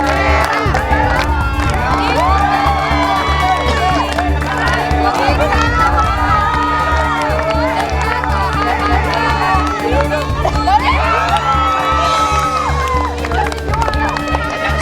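A studio crowd at a cooking competition shouts and cheers loudly and continuously, excited voices overlapping with music underneath throughout.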